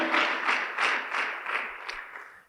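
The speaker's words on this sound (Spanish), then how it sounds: "démosle fuerte, fuerte, fuerte esas palmas al Rey de Gloria" A church congregation clapping hands together in praise, a dense broadband wash of many palms with slow rhythmic surges, steady and fairly loud throughout.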